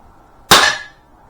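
A single sharp air pistol shot from a Webley Tempest or Beeman P17, loud and close, with a brief metallic ring decaying over about half a second against near silence.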